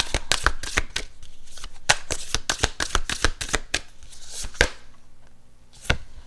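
Tarot and oracle cards being shuffled by hand, rapid close riffling bursts in quick succession, then a pause and a final riffle, crisp and fairly loud with no talking.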